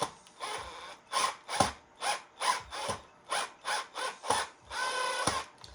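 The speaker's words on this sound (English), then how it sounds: "put the use the old power drill on it" A power drill whirs in short repeated bursts during Duo Sonic guitar assembly, about a dozen quick pulses close by, ending with one longer run.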